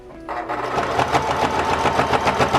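A sewing machine runs steadily while stitching fabric on a small scrap project such as a corner bookmark, its rapid needle clatter close and continuous after a brief start.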